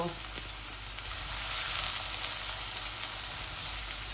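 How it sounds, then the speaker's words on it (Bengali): Onions are tossed into chicken already frying in a pan for a dry bhuna curry, making a continuous bright sizzle close up with a couple of faint knocks. "এই আমি চিকেনের মধ্যে আমার পরিমাণ মতো পেঁয়াজ দিয়ে দিচ্ছি"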